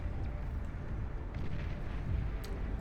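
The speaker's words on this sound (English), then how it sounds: "LRPC, firing into the distance right here as we have one of those good old-fashioned Basilisk long-range plasma cannons" A Basilisk long-range plasma cannon firing in Beyond All Reason, a dense rumbling boom bed with a few sharp cracks of distant shots throughout, steady and loud with no clear talk.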